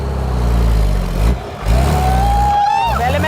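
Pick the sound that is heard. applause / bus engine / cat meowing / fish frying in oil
bus engine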